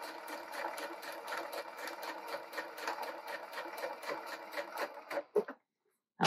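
A sewing machine stitches a strip of fabric held against a cloth guide lip, sewing with green thread; a steady rapid run of needle strokes continues for about five seconds, then stops, followed by a couple of sharp clicks.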